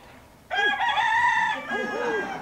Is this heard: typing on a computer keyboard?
no